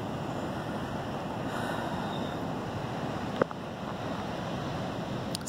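Steady broadband wash of ocean surf with wind noise, a continuous rushing roar and one brief knock partway through.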